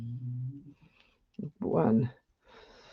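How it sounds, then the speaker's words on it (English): A short, sharp cough from a person, a rough burst followed by a breathy snort, close and fairly loud, with a spoken word just before it. "Sorry, a bit of a cough."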